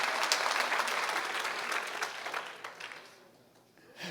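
A church congregation applauds in a sustained wave of clapping that gradually thins and fades toward the end, with a few scattered claps trailing off.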